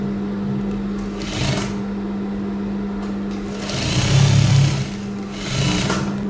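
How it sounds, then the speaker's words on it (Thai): Sewing machine stitching fabric for elastic-waist shorts, a close mechanical buzzing hum that runs steadily, with louder rattling bursts of fast stitching near the middle and end, no voices. "อันนี้ก็เย็บได้แล้วหนึ่งชิ้น แล้วก็เย็บอีกชิ้นหนึ่ง"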